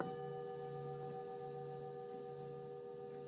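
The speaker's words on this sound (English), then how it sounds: "soon you will hear the sound of the Tibetan bells." A struck Tibetan bell rings out right away, then its shimmering overtones hang on and fade slowly in a quiet, calm space.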